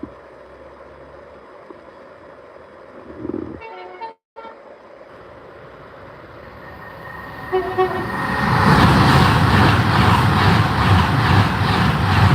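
A train passes at Acton Bridge, starting as a quiet distant rumble with horn toots around the third and fourth seconds, then swelling into a loud, broad wash of rolling wagons from about eight seconds onward.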